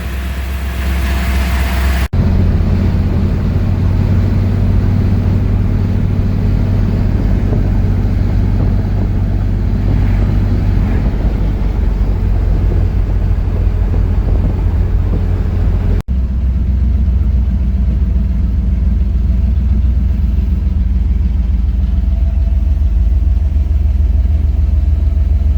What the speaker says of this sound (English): Listen to that fan go.